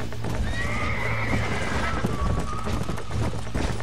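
In the video game Red Dead Redemption, a horse whinnies loudly while hooves clip-clop steadily underneath, with a constant low hum in the background.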